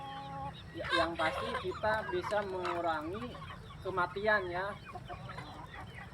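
Free-range kampung chickens cluck and call repeatedly around a farm yard, their voices close and overlapping, while someone talks over them.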